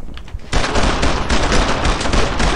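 Sustained automatic gunfire in the World War II shooter Brothers in Arms: Earned in Blood, a dense loud burst of rapid shots erupting after a brief quieter lead-in and continuing without pause.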